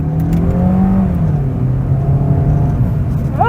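A 2026 Suzuki Fronx SGX hybrid crossover engine revs in manual mode, heard from inside the cabin as a loud, close, steady drone whose pitch climbs and falls, with no talking.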